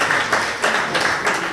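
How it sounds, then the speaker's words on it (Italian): Brief burst of audience clapping at a 2015 futsal award ceremony, continuous and fairly close, swelling in small waves over a short span. "un applauso per lui."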